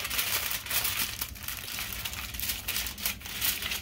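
Aluminum foil crinkles and rustles as it is pressed loosely over a pan of vegetarian spinach lasagna, a steady, close, papery crackling that runs the whole time with no talking.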